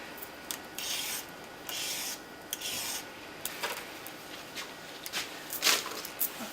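Dirty zucchinis being peeled, a series of short dry rasping scrapes in uneven bursts, close and fairly quiet with no talking.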